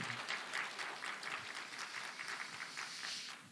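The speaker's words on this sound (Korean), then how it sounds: "목사님께 박수로 하겠습니다" A church congregation claps steadily in a sustained round of applause for the pastor at a Sunday worship service, the dense patter heard at moderate distance with no talk over it.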